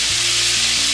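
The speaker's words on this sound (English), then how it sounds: "I'm gonna add a little more olive oil to the skillet because I do want to add in my onions" Onions hiss loudly in olive oil in a skillet, a close, dense sizzle filling the whole second with faint tonal hum underneath and no talk.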